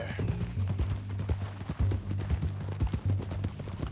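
Horse hooves clip-clop steadily in Red Dead Redemption 2, a close, rhythmic run of hoofbeats over a low droning background with no talk.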